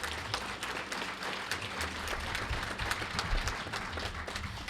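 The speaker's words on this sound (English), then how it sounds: "And a big round of applause, and please stand up for Nick and Jane Panacidi" Steady, dense applause from a seated audience at an event dinner, a continuous wash of many hands clapping at moderate distance with no voices standing out.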